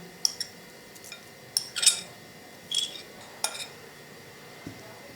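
A spoon stirs sabudana (tapioca pearls) in a bowl for a colourful sweet, giving a handful of sparse, close metallic clinks and light scrapes spaced over a few seconds, with no voices.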